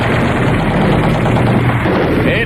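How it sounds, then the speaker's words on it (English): War sound effects of machine gun and artillery fire, heard as a dense, loud, continuous rumble of rapid bursts and booms with no pause and no voices. "My God, it sounds like it's an artillery barrage!"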